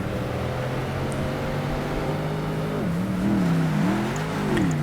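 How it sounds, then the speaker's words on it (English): Race car engines from Project Gotham Racing 2 on Xbox drone steadily around the track, a sustained whine that rises and falls in pitch as cars pass and shift, with more cars audible in the distance. "you can hear the cars going around the track in the distance"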